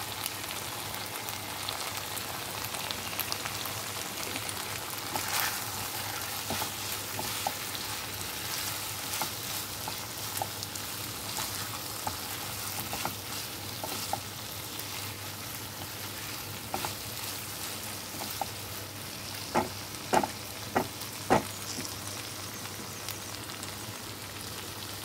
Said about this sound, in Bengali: এখন দিয়ে দিচ্ছি সেই ভেন্ডিগুলো যেগুলো ভেজে রেখেছিলাম। আর সঙ্গে দিয়ে দিচ্ছি হাফ কাঁচা লঙ্কাটাও দিয়ে দিচ্ছি